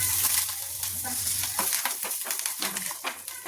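Curry leaves dropped into hot tempering oil crackle and sizzle loudly up close, with a dense hiss and scattered pops, no voices.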